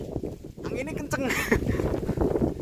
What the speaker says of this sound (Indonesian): Anginnya kenceng.